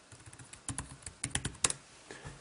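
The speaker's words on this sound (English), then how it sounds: "if we want to use the keyboard, just start typing in" Keys clatter on an Asus Transformer Prime keyboard dock in a close, quiet room, with irregular quick taps and short bursts of keystrokes and no one talking.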